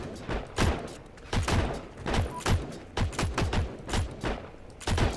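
Rapid, sharp gunshots crack in the shooter game Heroes and Generals, a dozen or more close, loud reports fired in irregular quick bursts with short gaps between them.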